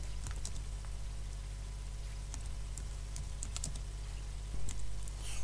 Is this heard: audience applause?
no